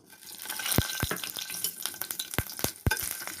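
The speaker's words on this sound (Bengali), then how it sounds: "এখানে আমি শুকনো লাল লঙ্কা আর কাঁচা লঙ্কা আমি একটু মাছ ভাজার ওই তেলে ভেজে নেব" Dried red and green chilies fry in leftover fish-frying oil, a lively sizzle broken by several sharp crackling pops and spatters at irregular intervals.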